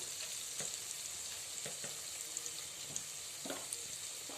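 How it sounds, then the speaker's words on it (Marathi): Soaked moong dal and washed dill greens sauté in a pan, giving a steady sizzle with occasional stirring scrapes, close and moderately loud, with no talk. "मी आता हे छान परतून घेते"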